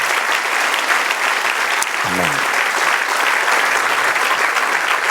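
A church congregation applauds during a Spanish-language sermon, with continuous, dense clapping throughout and a brief spoken word near the middle.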